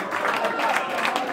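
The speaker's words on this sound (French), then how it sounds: "on va les applaudir très très fort s'il vous plaît" Brief burst of crowd applause at a concert in the New Morning club in Paris, dense clapping mixed with cheering voices, fairly close and loud throughout.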